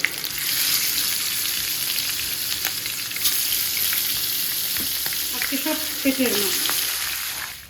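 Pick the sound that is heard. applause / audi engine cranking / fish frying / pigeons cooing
fish frying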